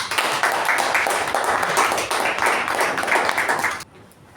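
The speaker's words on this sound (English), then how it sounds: "give her a huge round of applause to this very determined person, Toastmaster Gia on stage" A Toastmasters meeting audience gives a dense round of applause for a speaker taking the stage, loud and sustained before cutting off abruptly into near quiet.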